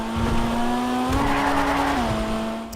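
A car accelerating while trying to drift, engine tone climbing steadily then dropping briefly before holding a strained, even drone, loud and close throughout.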